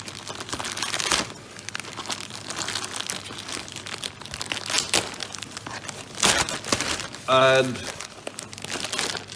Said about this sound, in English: Tear this open.